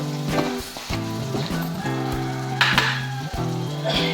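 Sambar ingredients with homemade chilli masala, coriander and salt roast in a pan with a steady sizzle, heard beneath sustained musical tones with a few brighter crackles.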